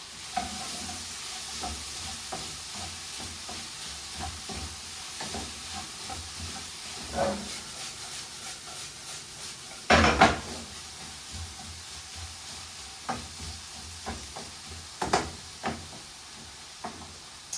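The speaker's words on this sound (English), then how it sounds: "So, all my peppers and onions are starting to cook." Peppers and onions sizzle and hiss steadily in a stir-fry pan, with scattered clicks of stirring and one louder clatter, close and fairly quiet with no talk.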